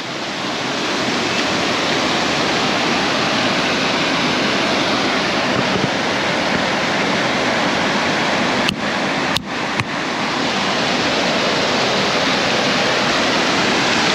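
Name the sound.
river water flowing during a bicycle river crossing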